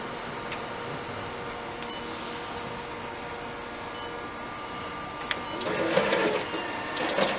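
A Xerox DocuColor 242 printer with a finisher runs a booklet job, giving a steady mechanical whir close by with faint clicks and louder shuffling and clunks near the end.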